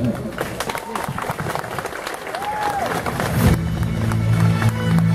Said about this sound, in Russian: Аплодисментами встречаем первоклассников!